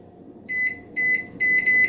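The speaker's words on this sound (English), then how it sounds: "I'll set a kitchen timer on the microwave" A microwave being set as a kitchen timer gives three short, bright electronic beeps in quick succession, close and clear over a quiet kitchen.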